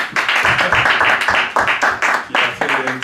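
An audience at a Business School event applauds in a steady burst of close, dense hand clapping that carries on without pause for a few seconds, with no voices over it.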